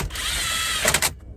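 A power driver whirs briefly while running 7mm screws back in during a remote start installation on a 2021-2025 Ford F-150, a close steady motor whine ending in a couple of quick ratcheting bursts.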